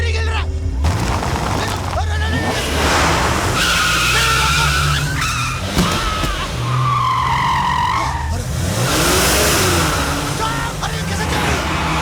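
A car starts and drives off amid a chaotic scene, its engine revving and swelling with skidding, tire squeal and booming impacts, under frequent shouting voices and music.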